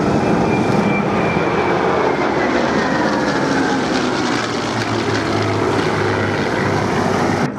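A vintage warbird's piston engine roars at the Duxford Flying Legends airshow, a loud, sustained, rumbling drone that stays close and constant throughout, with no talk.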